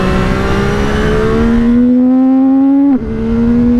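A CFMOTO 675 NK motorcycle engine on a racetrack drones loud and close with a steady tone that climbs slowly, dips sharply near the end, then picks up again.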